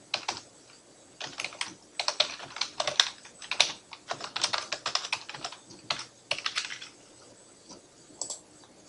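Fingers type an address on a computer keyboard in quick, uneven bursts of close, crisp key clicks with brief pauses between runs.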